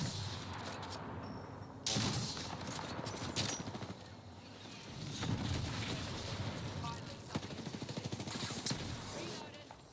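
Rapid gunfire and explosive blasts from a shooter video game crackle in bursts over a busy mix of effects, with a voice talking over the action.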